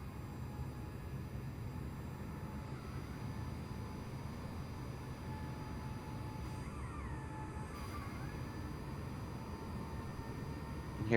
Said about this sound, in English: Hear his engines spooling up.